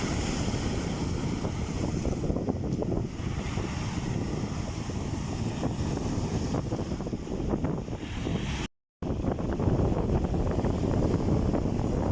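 Steady roar of sea waves at Manila Bay mixed with gusty wind buffeting the microphone, continuous and loud with no voices.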